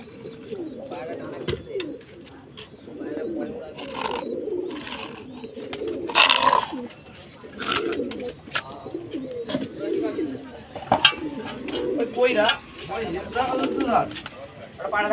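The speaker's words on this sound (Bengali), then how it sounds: "পায়রাগুলো উঠছে এখনও, ঠিক আছে।" Pigeons coo and stir in a loft during hot weather, with soft repeated cooing, wing flaps and scattered bird calls mixed under ongoing talk close by.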